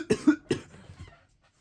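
Three sharp coughs close to the microphone in quick succession, trailing into a brief fading breathy tail with no talking.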